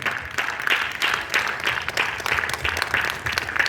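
A church congregation applauding in acclaim of Christ, rhythmic clapping in pulsing waves that keeps going steadily, moderately loud and somewhat reverberant.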